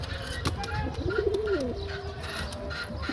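A breeding pigeon gives a single soft, warbling coo close by, with light background hiss and a few faint clicks and rustles around it.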